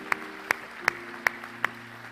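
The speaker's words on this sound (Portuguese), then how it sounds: "Você pode aplaudir o Senhor?" A church congregation claps during a sermon in a steady rhythm of five sharp, evenly spaced claps that sound faint and slightly distant, with no talk over them.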